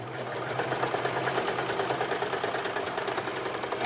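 Sewing machine stitching the arms onto a sweater cut from an old knit garment, a fast, even mechanical whir with steady rapid needle beats, close and alone.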